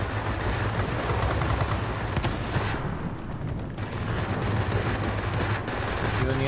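Bf 109 B machine guns firing in World of Warplanes, rapid bursts of automatic gunfire over a droning engine, with a short pause midway before firing resumes.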